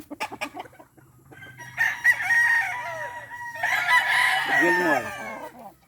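In a small backyard chicken coop, a few quick clucks lead into two long, loud rooster crows close by, the second one overlapping other birds calling.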